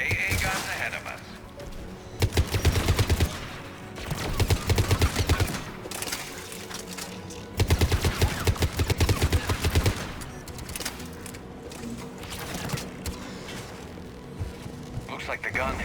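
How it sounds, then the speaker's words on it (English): Anti-aircraft guns fire in a video game, loud rapid bursts of gunfire in several long volleys separated by brief pauses, with background game sounds between them. "AA guns ahead of us."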